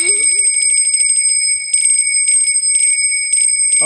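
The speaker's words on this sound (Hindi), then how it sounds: "अब घंटी बज गई," A small ringing bell at a devotional katha gathering sounds in rapid repeated strikes, bright and close, with pauses between bursts of ringing.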